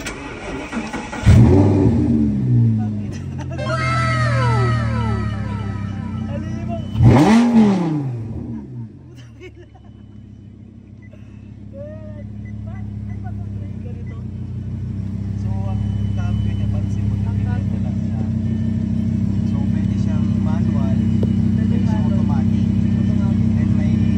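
A Lamborghini engine starts with a loud crank and bark, revs sharply twice, then settles into a steady, close idle; people talk around it.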